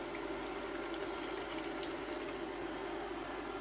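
Water streams steadily into a pot of cooking pumpkin and millet porridge, a constant rushing pour with no pauses, close by.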